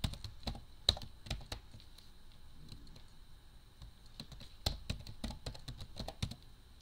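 A mailbox address being typed on a computer keyboard: a quiet, close run of irregular key clicks with a few sharper strikes and no voices.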